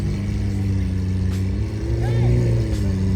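A red Toyota Supra at a JDM car meet, its engine holding a steady loud drone that swells into a brief rev, with people talking over it nearby.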